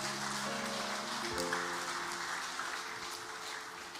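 A church congregation claps for its choir during a Sunday worship service, a soft steady wash of applause under sustained organ or keyboard chords that shift partway through.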